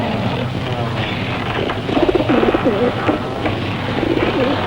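A dove coos in a run of soft, repeated phrases midway through, over a steady background hum and rumble.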